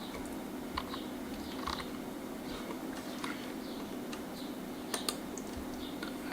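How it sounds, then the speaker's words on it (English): Typing on a computer keyboard, a quiet run of light, irregular key clicks heard close but faint against a low steady background hum, with no talking. "let's type some words."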